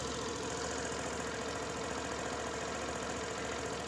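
A Suzuki Burgman Street scooter engine idles steadily after an ISC reset, a continuous close mechanical thrum with a fine rapid knocking pulse and no talking.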